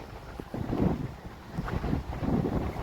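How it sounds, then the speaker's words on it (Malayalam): Strong wind blows across a hilltop beside windmills at Chathuranga Para, buffeting the microphone in steady, rumbling gusts that swell and ease throughout, with no talk. "ഇവിടെ നല്ല കാറ്റ് കേട്ടോ."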